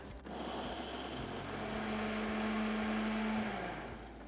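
A kitchen blender grinds onions into a puree, a steady loud motor whir that runs continuously, its pitch holding then dropping slightly near the end before winding down.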